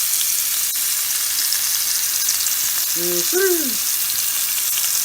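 Food searing in hot oil in a pan, a loud, dense, continuous sizzle with a brief faint tonal chirp partway through.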